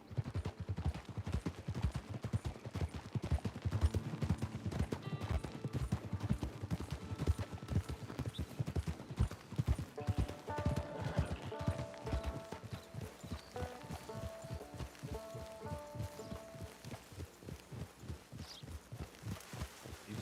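A horse's hooves clip-clop steadily in the Western video game Red Dead Redemption 2, with an even walking rhythm through the whole stretch and soft musical tones rising underneath partway through.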